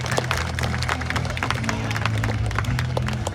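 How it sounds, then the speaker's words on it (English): Open-air amphitheater crowd at a Canada Day performance of an Indigenous dance group claps in a scattered, moderately loud patter, with a low steady hum and murmur of people beneath. "If we can give him a round of applause,"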